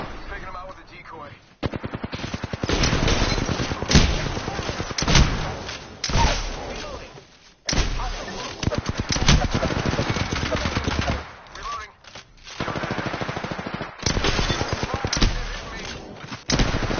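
Sustained automatic gunfire in a battle royale game, long rattling bursts with brief gaps between volleys, loud and close, with a voice talking at points during the firefight.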